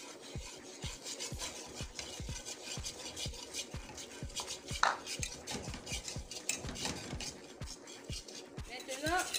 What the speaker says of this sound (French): Nous allons ajouter la farine, toujours en remuant.